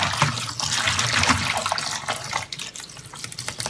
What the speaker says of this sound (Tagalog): Ibabad po muna natin itong spinach natin bago natin